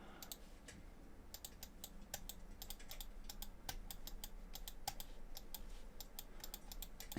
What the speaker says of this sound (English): if you can hear my mouse, I'm also just clicking just a little bit.